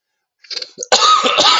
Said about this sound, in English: I've had this horrible cough